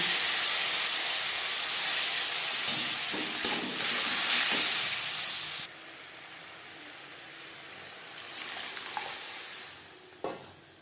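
Boiled moong dal hits hot oil with fried dried chilli and cumin, giving a loud bright sizzle that drops sharply halfway, followed by softer stirring, spoon scrapes and a couple of clinks.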